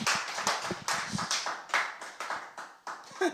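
Congregation clapping at a Korean church worship service, a small group's uneven claps close and fairly loud, rising and falling in bursts over a few seconds.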